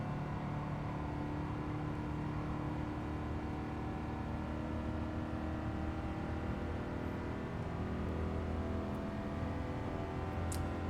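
A European classic compact car in Gran Turismo 7 drones steadily in fifth gear. The even, sustained engine tone holds at a moderate level for the whole stretch, with no talking.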